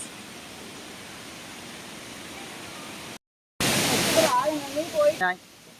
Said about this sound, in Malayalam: Walendorf waterfall.